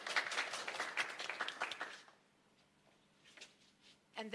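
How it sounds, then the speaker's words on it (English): An audience at a county fair 4H fashion show applauds for about two seconds, a dense patter of hand claps that then fades to near silence before a few scattered claps return. "Let's give them another round of applause."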